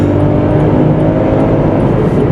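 A VW Polo 1.0 TSI with a manual gearbox accelerates hard, its engine a loud, continuous droning roar heard from inside the car, with no clear break between gears in this short stretch.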